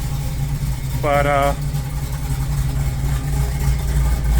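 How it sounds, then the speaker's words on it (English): Green car fitted with Sniper EFI idling, a steady low engine drone that runs throughout, with one brief spoken word partway through. "I'll show you I got the green car running."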